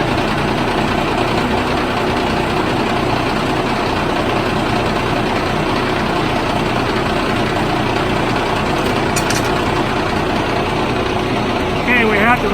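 A truck engine idles steadily while powering a hydraulic wet kit pump for a bulk feed trailer, a continuous loud rumble with a faint voice in the background.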